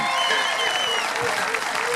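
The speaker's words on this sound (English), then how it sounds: "Round of applause there for Emma Wilson." Steady applause from a crowd at a Highland Games athletics event, dense and continuous throughout, with no pauses.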